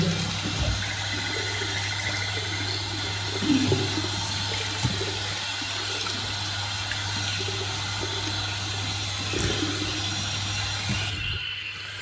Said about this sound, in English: we're going to rinse my face with cold water